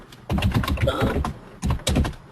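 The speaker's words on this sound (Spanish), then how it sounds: "Pero yo oía perfecto el teclado." Computer keyboard typing picked up over a participant's microphone during an online sales webinar Q&A, a close, loud flurry of rapid clicking keystrokes in two bursts with a short pause between, no talk.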